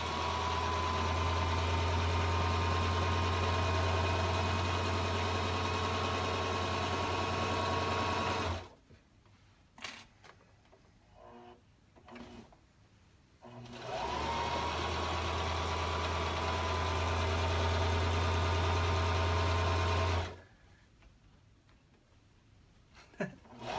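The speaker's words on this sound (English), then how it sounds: "So here we go again, sewing the opposite side of the dress." A sewing machine stitches the side seam of a dress, a loud steady mechanical whir running for several seconds, stopping, then running again before another stop with faint handling noises.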